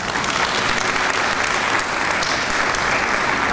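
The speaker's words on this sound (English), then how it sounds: "Give our teachers a round of applause." Applause for teachers at an international policy forum, a continuous, even wash of many people clapping in a large hall, steady and fairly loud throughout without speech.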